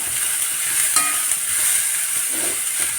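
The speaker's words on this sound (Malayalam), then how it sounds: "നന്നായിട്ടൊന്ന് മിക്സ് ചെയ്യുക" Chicken is being stirred in a hot pan with chilli powder, pepper powder and garam masala, a close steady sizzle with a few scraping clinks of the spoon against the pan and no talking.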